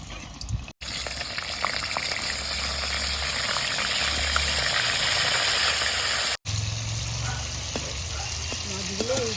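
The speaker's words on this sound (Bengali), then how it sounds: "মাছগুলোকে ভেজে নেব।" Small fish rubbed with salt and turmeric frying in hot oil with chillies, a loud, continuous crackling sizzle that runs steadily throughout, broken by two brief cuts, over a low background hum.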